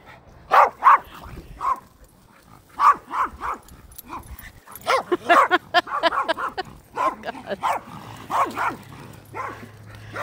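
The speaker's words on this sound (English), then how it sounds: "She can bark for hours." A dog barks and yips repeatedly in short bursts, close by, with a few whimpering notes between the barks.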